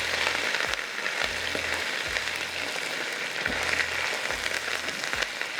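Potatoes frying in a pan as part of a home cooking recipe, a steady bright sizzle with crackling spatter running throughout, plus a few soft low knocks of the pan or a spoon.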